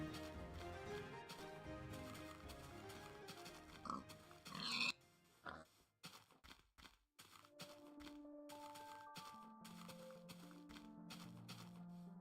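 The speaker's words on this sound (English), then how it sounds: "there are more pigs on the island" Pigs in Minecraft Indev grunting in short, faint oinks amid scattered game clicks and quiet gaps, sounding close but low in level, with no speech.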